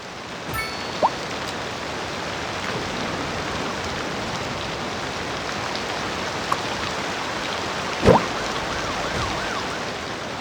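Steady rain ambience in the city-building game Cities: Skylines II, a dense even hiss of falling rain throughout with a few faint brief chirps and tones over it.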